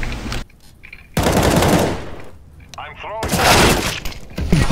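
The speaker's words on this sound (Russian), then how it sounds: "Отличный выстрел." Gunfire in the Counter-Strike: Global Offensive video game: loud bursts of rapid shots with breaking, shattering noise in between, some quieter gaps, and someone talking over parts of it.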